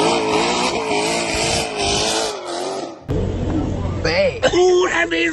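Loud, close V8 rumble from a 426 Hemi Charger, with the engine running and revving in surges over about five seconds as voices talk over it.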